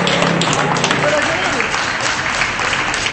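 Residents clap from balconies and windows for health workers during the coronavirus outbreak, a loud continuous wash of applause mixed with crowd noise, with a voice talking over it.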